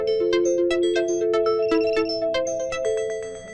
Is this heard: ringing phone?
yes